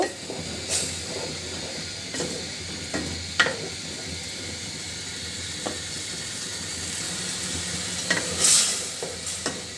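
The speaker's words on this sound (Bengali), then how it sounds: "টমেটোটা মশলার সঙ্গে খুব ভালো করে কষিয়ে নিব।" Chopped tomatoes fry with spice masala in a pan for a village-style fish curry, a close hissing sizzle with scattered stirring knocks and a brief sharp hiss near the end.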